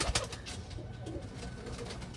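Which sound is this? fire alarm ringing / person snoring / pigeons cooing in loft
pigeons cooing in loft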